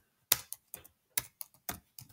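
Keys on a Chromebook keyboard pressed in short, sparse bursts, a handful of crisp close clicks separated by gaps of silence.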